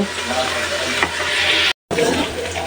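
Onion and spices such as turmeric, chili and coriander powder fry in a pan for a liver curry, making a loud, steady hiss and sizzle with soft stirring scrapes and one abrupt, momentary dropout.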